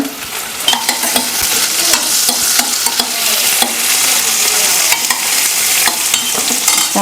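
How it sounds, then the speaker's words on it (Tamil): Onions sautéing in a hot pan give off a loud, continuous sizzle, broken by frequent scraping stirs of a spoon against the metal. Everything is close-up and steady, with no talk. "ரொம்ப நேரம் வெங்காயம் வதக்க வேணாம் சும்மா கொஞ்சம் நேரம் வதக்கினாலே போதும்"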